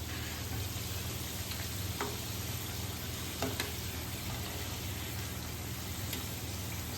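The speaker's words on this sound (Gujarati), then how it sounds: "મીડિયમ ફ્લેમ પર જ એને ફ્રાય કરવાના છે" Ghughra pastries fry in oil over a medium flame, giving a steady, even sizzle with occasional faint pops and crackles and no voices.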